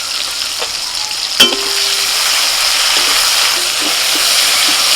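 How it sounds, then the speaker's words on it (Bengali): Close, loud sizzling of chopped tomatoes frying in oil in a wok, even and constant, with a sharp clank of a utensil early and a few light scrapes after. "টমেটোটা একটু ভাজা ভাজা হয়ে গেছে"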